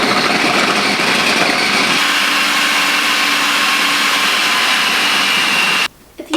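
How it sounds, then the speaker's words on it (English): A blender whirs steadily while blending a chocolate, banana and chia pudding mixture, loud and close, then cuts off abruptly near the end with a brief restart. "And then we're going to blend it"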